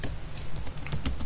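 Quick burst of typing on a computer keyboard while entering a Linux alias command, with several light, close key clicks in an uneven rhythm and no talking.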